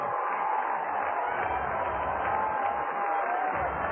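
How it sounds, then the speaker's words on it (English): A baseball crowd on its feet cheering in the top of the ninth at a minor league game between the Clinton LumberKings and the Cedar Rapids Kernels, a steady, dense roar of many voices that holds for several seconds. "listen to the crowd. They're on their feet"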